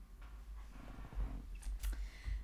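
A cat purrs softly and close by in a low, rough rumble, with a few faint rustles and clicks over it and no talking.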